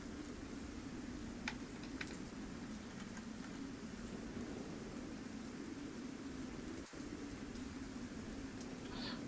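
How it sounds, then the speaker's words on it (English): Heavy rain downpour, a steady dense hiss of falling water with a few faint distant rumbles, continuous and even throughout, with no voices. "it is just heavy downpour"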